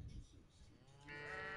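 A cow moos on a farm in the video game Coral Island, a single drawn-out low call that swells in the second half, faint and alone after a muffled start.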